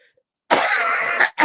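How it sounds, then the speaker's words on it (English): A single dry cough followed by a short throat clear, close and loud against silence. "And it's making me cough"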